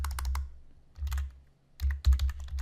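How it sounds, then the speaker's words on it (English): Someone types on a computer keyboard, close and crisp, in quick bursts of key clicks separated by short pauses, with low desk thuds underneath. "I'm just typing right over the template that's there."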